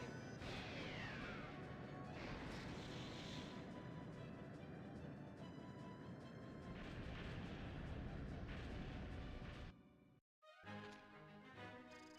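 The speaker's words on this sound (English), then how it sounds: "Harpoon cannon, fire!" A harpoon cannon fires in the video game Skies of Arcadia, loud heavy booming blasts that crash over a constant roar of game sound, with a brief dropout near the end.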